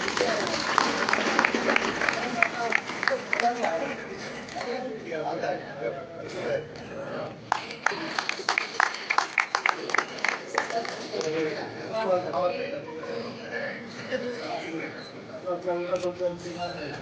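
An audience claps at a certificate distribution ceremony led by the Chief Minister, scattered applause swelling into a brisk burst around eight seconds and fading, with a speaker's voice over the hall.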